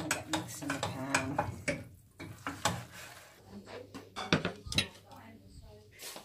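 Food being stirred in a pan with utensils, a close run of clinks, scrapes and knocks of metal on cookware in uneven bursts, with people talking between.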